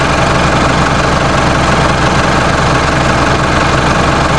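A heavy diesel tractor engine idles loudly and steadily, a low rumbling chug that holds constant throughout, with no voices.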